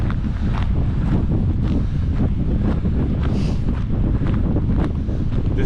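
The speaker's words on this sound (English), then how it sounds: "The wind has really picked up." Strong wind blasts across a microphone on a seaside trail at Iona Beach in Richmond, BC, a loud continuous roar with gusty surges and rumble and no voices.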